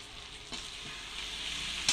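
Neem leaves and eggplant frying in a pan, with a steady hiss and crackle of hot oil and a soft scrape of stirring near the end, heard close with no talking.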